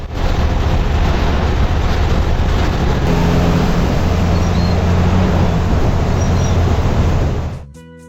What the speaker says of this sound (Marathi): हा आवाज ऐकल्याशिवाय एसटीत बसल्याचं काही समाधान होत नाही